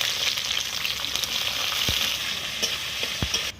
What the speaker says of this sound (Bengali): বিনসগুলো ভেজে নেব